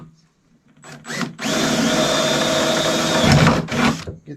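A power drill drives a screw into a canoe seat, with a short blip, then a steady whirring run of about two seconds before it winds down and gives a brief final burst, close and loud.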